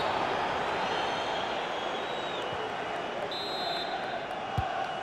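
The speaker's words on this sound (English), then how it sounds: "Listen to how loud the crowd are, urging their team forward." A stadium crowd in FIFA 21 roars steadily during a Manchester City versus Everton Premier League match, a dense sustained wash of cheering with a few whistles and a brief thump.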